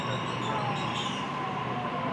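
A metro train pulls into a crowded station platform in Australia with a continuous rumble and a drawn-out high wheel squeal, heard fairly close.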